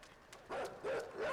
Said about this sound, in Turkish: Oo geliyor yine köpek.